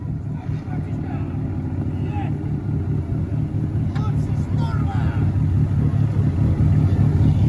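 Low, steady rumble of an off-road vehicle engine, fairly close and continuous as it rolls up, with wind noise and some muffled talk over the drone.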